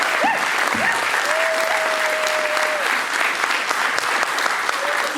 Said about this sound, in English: give it a massive round of applause, I think, for Conor, and for everyone here as well